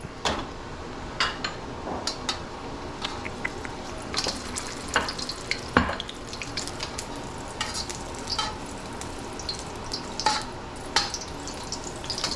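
A ginger slice sizzles steadily in hot oil with sharp pops and crackles scattered throughout, close and fairly quiet, with no talking.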